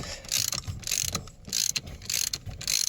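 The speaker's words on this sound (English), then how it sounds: "drive ratchet with a 21 millimeter on it" A ratchet fitted with a 21 mm socket is cranked to loosen a nut on a 2001–2005 Dodge Caravan, giving close, rapid clicking bursts in four or five regular strokes with short pauses between, and no voices.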